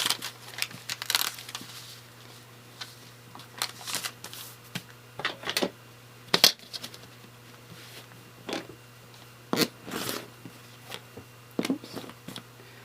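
A paper-pieced quilt block is trimmed along a stitch line, with close, irregular crinkles, snips and rustles of paper and fabric over a faint steady hum and no talk.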